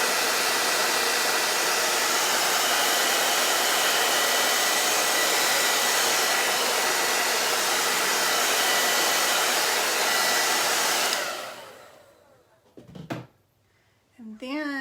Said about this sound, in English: now I'm gonna hit it with blow dryer real fast.